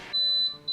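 A rice cooker signals that it is done with short, bright electronic beeps, two close tones separated by a brief gap, clear and near with no talking.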